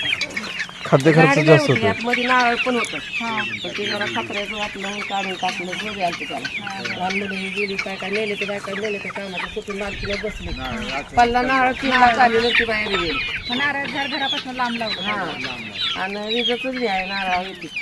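Native free-range chickens cluck and call in a pomegranate orchard, steady fowl vocalizations running throughout at moderate distance, with people talking over them.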